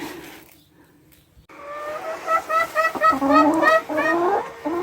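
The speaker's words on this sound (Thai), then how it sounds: "ไก่กำลังออกไข่อยู่เลย" Hens cluck nearby while laying eggs, repeated rising calls building up after a quiet start, set against a low steady background hum.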